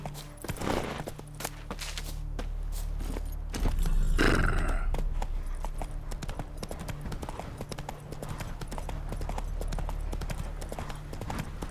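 Roach, a horse in The Witcher 3, gallops with steady, dense clip-clop hoofbeats throughout, a brief whinny rising near the middle over a low rumbling background.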